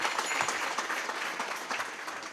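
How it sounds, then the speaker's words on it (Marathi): Audience at a Marathi kirtan applauding together, a steady dense clapping that fills the space at moderate loudness throughout, with no voices on top. "टाळी वाजव सगळ्यांनी"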